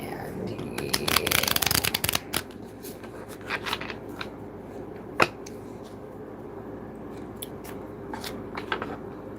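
A deck of tarot cards is riffled and shuffled repeatedly in brisk bursts of papery flutter and snaps, close and fairly loud against a steady background hiss.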